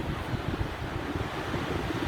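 Winter sea waves wash onto the Büyükçekmece shore, a dense, steady roar of surf mixed with heavy wind buffeting the microphone, continuous and close throughout the short stretch with no voices.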